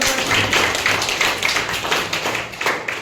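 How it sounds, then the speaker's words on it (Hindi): A classroom of students clapping together in a dense, steady patter of hand claps that carries through the whole stretch, fairly loud and close, with no voices over it. "बहुत बढ़िया, ताली बजा दो।"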